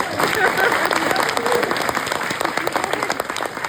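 A French town-event audience in Savenay bursts into lively clapping that stays fairly loud and dense, with voices mixed in under the applause.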